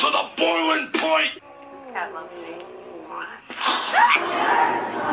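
A cat yowls and meows loudly in drawn-out, wavering cries close to the listener, several separate calls with short gaps between them.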